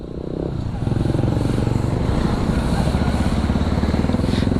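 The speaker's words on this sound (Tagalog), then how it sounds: "Ayan o, bagong motor niya, Motorstar" A Motorstar Xplorer 200X sports motorcycle engine runs close by with a steady, throbbing low rumble. It swells slightly after a brief softer start and then holds an even, loud idle.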